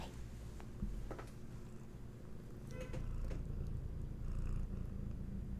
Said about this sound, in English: You brought a little bit of purr.